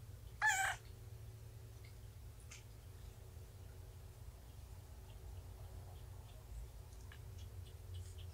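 A young kitten gives one short, high meow right at the start, then only a faint low hum and quiet ticks follow.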